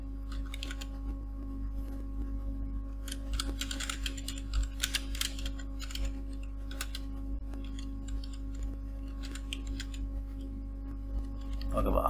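Keys on a computer keyboard clatter during a Photoshop class, with irregular bursts of quick, light clicks over a steady low electrical hum, fairly quiet throughout.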